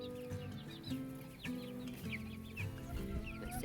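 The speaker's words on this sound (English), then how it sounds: "That hen is the meanest one we have." A farm hen clucks repeatedly up close, giving a series of throaty, uneven clucks with brief pauses, and faint chirps from other chickens come in around them.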